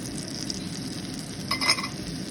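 Small dosas fry in butter on a pan with a steady, close sizzle that flares briefly into sharper crackling near the end.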